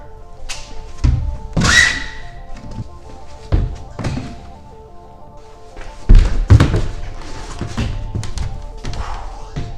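Feet land on the ground after a parkour tic tac jump, with several heavy close thuds spaced a few seconds apart and rustling and movement between them.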